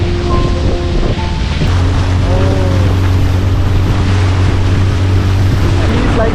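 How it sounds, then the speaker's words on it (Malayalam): A motorboat driven carefully on a river while fishing, its engine droning loudly and steadily close by amid rushing water and wind buffeting the microphone. "വളരെ സൂക്ഷിച്ചാണ് ബോട്ട് ഓടിക്കുന്നത്"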